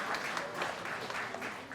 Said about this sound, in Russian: Так что мы можем аплодисментами их похвалить за этот результат